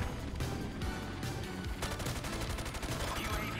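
Rapid G36C rifle fire in Call of Duty Modern Warfare 2019 cracks out in dense automatic bursts, with a brief pause before a sustained stream of shots runs to the end.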